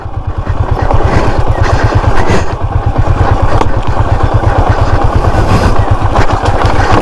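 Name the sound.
motorcycle being ridden down a rocky mountain trail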